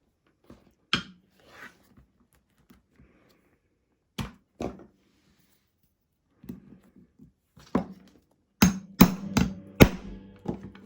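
Several sharp hammer strikes setting a metal rivet and cap through a leather satchel bag, a few sparse knocks early on, then a quick loud cluster of blows at the end, close and dry with no talking.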